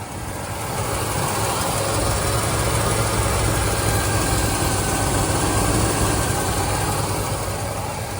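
A 1973 Cadillac Sedan deVille's 472 V8 engine idles steadily up close, a constant deep rumble with an even, loping rhythm and no voices.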